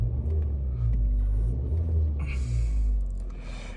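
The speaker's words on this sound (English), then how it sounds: "I will give it a very quick rev" Idling 1.6 engine of a 2014 Vauxhall Mokka Exclusiv given a quick rev, a low, steady rumble that swells briefly in the middle before settling back, heard close and moderately loud with no talking.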